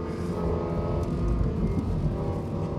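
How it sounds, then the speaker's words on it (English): Lexus LFA V10 engine roaring from inside the cabin, a loud, steady, dense mechanical drone sustained throughout with no speech. "That engine is just, it's, you have to be in here to truly believe what it sounds like."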